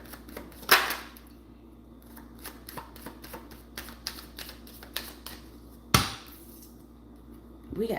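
Cards being shuffled by hand, a quick run of dry riffling clicks and taps with a couple of sharper slaps standing out, close and fairly quiet, with no talking.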